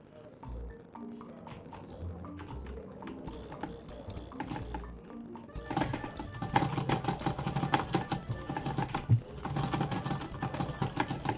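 A computer keyboard spacebar is mashed rapidly during play of the game Core, a dense run of quick plastic clicks that thickens into a continuous clattering burst midway, mixed with game sounds.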